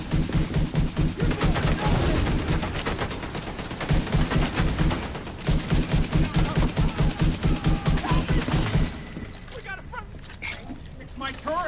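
Rapid bursts of turret gunfire in a building-themed video game, loud repeated volleys for most of the clip, dropping to quieter mechanical effects near the end, with a voice talking throughout.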